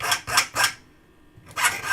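A hand file rasps over the burred side edge of a part cut out with shears, giving three quick strokes, a short pause, then another stroke, close and clear with no talk.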